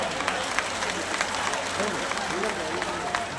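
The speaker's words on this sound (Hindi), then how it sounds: "सबसे पहले जोरदार तालियां अपने लिए बजाइए आप।" A political rally crowd at Jantar Mantar in Delhi claps loudly and continuously, a broad sustained wash of applause with scattered shouts and voices mixed in.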